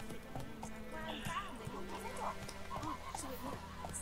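Rhythmic clip-clop of horse hooves at a quick pace in The Witcher 3: Wild Hunt, moderately close, with a faint whinny and some background game sounds.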